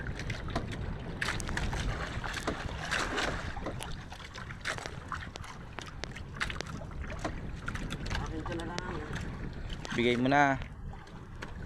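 A wooden fishing boat out jigging at sea after a storm, with a steady rumble of engine, wind and water throughout and a brief rising whine near the end, while people talk on board.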